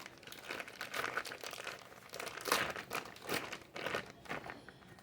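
A plastic package of bacon torn open in a kitchen, crisp crinkling and rustling in irregular bursts, close and moderately quiet.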